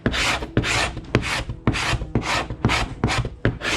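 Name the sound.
carbide scraper scraping grease and loose paint in bilge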